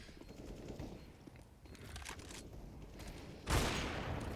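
Rapid gunfire from a rifle in a Splatoon 3 match at a university championship final, soft bursts of shots under a busy game mix, with a louder, denser volley breaking out near the end.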